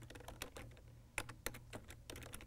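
Keys clacking on a computer keyboard during an office software session, a fast irregular run of light taps, fairly quiet and close, with no talking over it.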